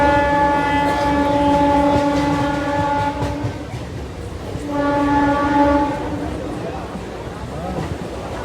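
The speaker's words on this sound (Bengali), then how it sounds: "স্টেশনে চলে এসেছি" Train passing through a railway station, its loud rolling rumble and clatter swelling twice, with sustained horn-like tones sounding over it, close and prominent throughout.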